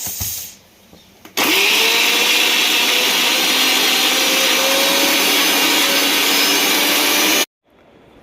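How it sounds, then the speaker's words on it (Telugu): A mixer grinder runs on beetroot pieces, starting abruptly after a brief clatter and holding a loud, steady whirring roar for about six seconds before cutting off sharply. "దీన్ని మిక్సీలో వేసుకుందాం."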